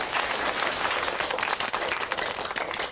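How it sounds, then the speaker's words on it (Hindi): Classroom applause with many hands clapping steadily and densely at close range, forming a continuous rattle with no voices over it. "चलो, उसके लिए तालियां बजाते हैं।"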